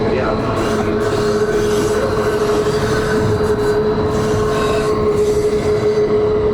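A White Pass railway train runs along its track in Alaska, with a steady rumble of cars and a sustained wheel squeal, close and loud throughout with no speech.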